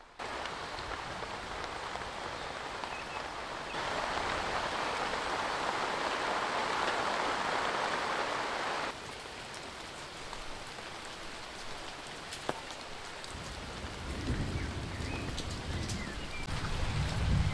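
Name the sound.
summer rainstorm with thunder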